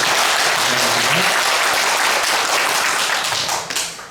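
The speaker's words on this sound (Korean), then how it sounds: "감사의 박수 드리겠습니다" A large church congregation applauds steadily during a Sunday service, a dense wash of clapping that holds for several seconds before tapering off at the end.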